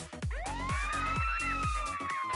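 A wailing emergency vehicle siren in the video game Party Hard, loud and close, its rising tone sweeping and holding over repeated low thumping beats of party music.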